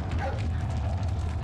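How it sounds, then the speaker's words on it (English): Dog barking in the video game Resident Evil 4, a short yip or bark up front over a low, steady background rumble. "Hey, it's that dog."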